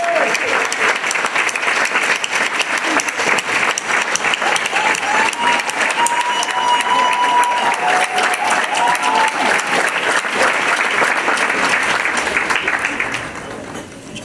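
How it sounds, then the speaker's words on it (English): An audience at a community awards event gives a long, loud standing ovation, with dense sustained applause and cheering voices that hold steady, then taper off near the end. "Ladies and gentlemen, please stand to your feet for a round of applause for Mr."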